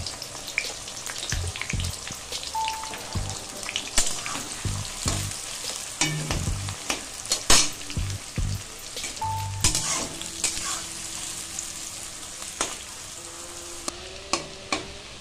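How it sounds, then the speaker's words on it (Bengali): Onions sizzle and crackle in a pan, with scattered sharp pops and scraping stirs over a soft, constant frying hiss, close up. "দেখুন পেঁয়াজটা একটু ভাজা ভাজা হয়ে এসছে"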